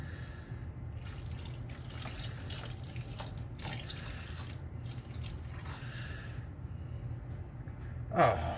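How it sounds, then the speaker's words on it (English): Liquid dye dripping steadily into a container, faint and close, with scattered drips and trickling over a quiet background, ending in a brief louder splash. "why am I dripping so much?"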